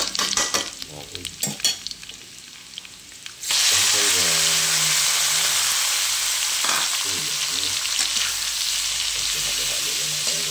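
Ricado frying in a pan while being stirred, a Bisaya home kitchen cooking balatong. It starts with clattering stirs, then a loud, steady sizzle takes over and continues under occasional scraping strokes.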